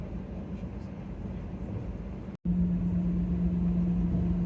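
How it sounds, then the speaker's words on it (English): Steady low cabin and engine drone inside a Virgin Australia Boeing 737 pushing back and taxiing on a Friday evening, with a brief dropout midway followed by a slightly louder, more tonal engine hum. "Our flight pushes back on time despite being a Friday evening"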